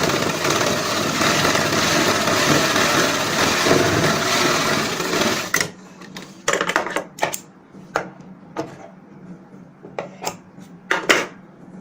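Sewing machine stitching a salwar seam, a steady dense mechanical whir for several seconds that stops, followed by scattered sharp clicks and taps.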